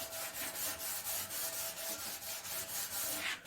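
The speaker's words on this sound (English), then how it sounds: "I'm going to scuff the whole thing down like what we're going here" Hand scuffing a 1963 Chevrolet Impala body panel, quick rhythmic back-and-forth abrasive rubbing strokes, close and steady, about a dozen passes.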